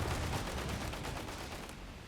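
Dense rifle gunfire from Schofield rifles in the World War II strategy game Company of Heroes 3, a steady crackling barrage of overlapping shots that holds at a fairly even level, alone with no talk.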